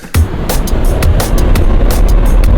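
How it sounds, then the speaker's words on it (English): Slightly saturated train recording played as an Ableton sample: a sudden onset into a dense, steady rumbling roar with rhythmic clacking bursts, loud and continuous throughout. "And that's a train, but that's a little bit saturated"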